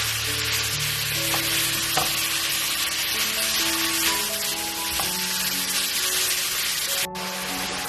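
Vegetables for chicken pasta fry in a pan with a loud, continuous sizzle, with occasional scraping stirs and clanks of the utensil against the pan.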